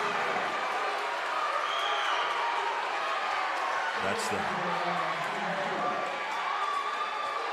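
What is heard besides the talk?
Hendersonville basketball fans cheering and clapping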